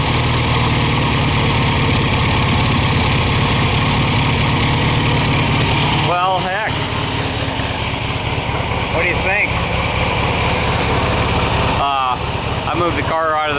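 A 1969 VW Baja engine fed by dual Kadron/Solex carburetors runs close and steadily with a constant mechanical hum, and someone briefly speaks over it.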